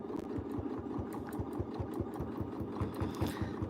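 A quilting sewing machine stitches a ruffle on a quilt, its needle beating in a fast, steady mechanical rhythm close by with a constant motor hum and no talk.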